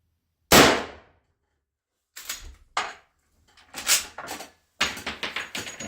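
A Marlin 1894 lever-action rifle in .357 Magnum firing: one sharp loud shot, a pause, then several more reports and clacking action noises in quick irregular succession, with no talking.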